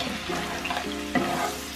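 Seafood for seafood rice frying in a pan while being stirred, a constant dense sizzle with soft scraping movements and a small knock, close and moderately loud.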